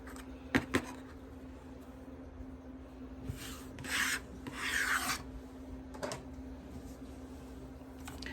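Fabric pieces for a quilt block being trimmed, giving short rasping cuts and rubs: two sharp snips near the start, then soft scraping bursts in the middle, all fairly quiet over a steady low hum.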